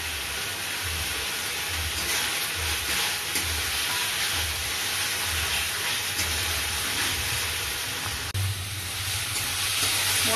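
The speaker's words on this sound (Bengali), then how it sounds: "মশলা কষানো হয়ে গেছে" Ground spice paste with tomato for a home-style mutton curry sizzles loudly in a pan, a continuous close frying hiss with faint stirring movement and one brief knock near the end.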